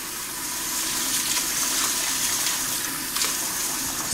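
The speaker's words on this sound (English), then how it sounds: "I have 2 cups of long grain rice here, and I'm going to rinse it" Two cups of long grain rice are rinsed with water in a bowl, giving a steady close-up wash of splashing and swishing water that continues without pause and without speech.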